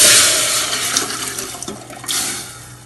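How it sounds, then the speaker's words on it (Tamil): Mutton liver soup is poured from a pressure cooker into another vessel, a loud splashing liquid stream that gradually tapers off with small gurgles and trickles, no talking. "இப்போ இந்த குக்கரில் இருக்கிற சூப்பை நம்ம இதில் ஊற்றிக்கிறோம்."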